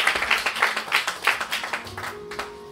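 A church congregation claps together in a quick, even rhythm of about three beats per second, sounding moderately close before the clapping fades out.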